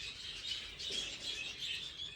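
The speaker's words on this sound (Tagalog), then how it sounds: "Yan ang latest na pet ko na ibon." A pet bird chirping in bright, high repeated twitters, close and fairly soft, in quick bursts with short gaps.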